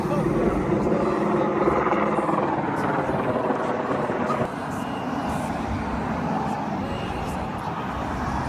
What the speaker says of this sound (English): बाप रे बाप, हेलीकॉप्टर भी है.